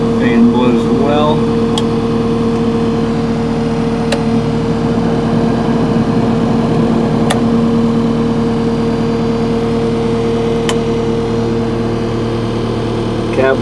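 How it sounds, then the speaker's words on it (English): A steady, loud cab fan hum in a Case TV380 with a low engine drone underneath, continuous throughout with a few faint ticks. "Fan blows well."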